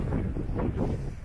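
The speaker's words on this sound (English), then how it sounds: "So this is a short trip out on a very windy day." Wind buffets the microphone in a low, steady roar with gusty swells, loud and close, on a very windy day aboard a narrowboat.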